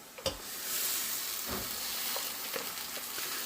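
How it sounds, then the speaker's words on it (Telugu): Amaranth leaves with chili powder fry in a hot pan, giving a steady, moderately loud sizzle with a few soft stirring scrapes and no voices. "ఇంకా తోటకూర వేసేసుకుందాం. కూర వేస్తున్నాం"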